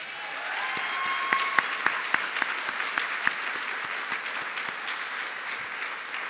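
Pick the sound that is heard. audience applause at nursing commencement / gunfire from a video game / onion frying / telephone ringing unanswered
audience applause at nursing commencement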